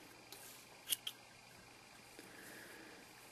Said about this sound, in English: So now we're going to cut off our yarn.